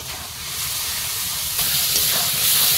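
Ground spice masala of turmeric, cumin, coriander and Kashmiri chilli powder fries in a pan with a steady, loud, close sizzling hiss that swells slightly toward the end, with no talk.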